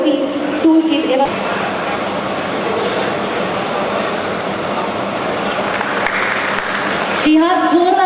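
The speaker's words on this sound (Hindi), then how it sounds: "जोरदार तालियों से उत्साहवर्धन करते रहें लाभार्थियों का" Steady crowd applause at a public government event honoring beneficiaries, continuous and dense for several seconds, with brief quieter moments at the start and end.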